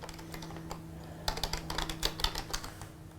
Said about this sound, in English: So we're going to type that in there.